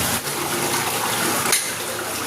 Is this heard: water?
yes